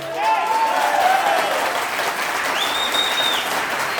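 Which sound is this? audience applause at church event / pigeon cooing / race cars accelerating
audience applause at church event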